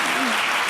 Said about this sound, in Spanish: ¿qué tal si le damos un aplauso?